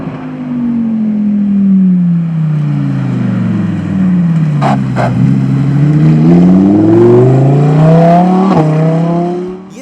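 A Lamborghini Huracan Evo RWD Spyder with its top down drives on the road, its engine droning loudly and continuously, pitch falling and then climbing steadily through the gears, with brief shift blips and no voices.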